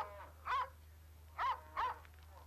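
A dog on a ranch barks three times, short and moderately distant, with long quiet gaps between the barks over a low steady hum.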